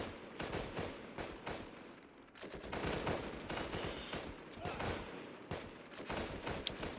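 Dense, continuous gunfire from a World War II isometric strategy game, Panzer Strike, with volleys of rapid shots and explosions rolling steadily at loud level throughout, a voice occasionally audible underneath.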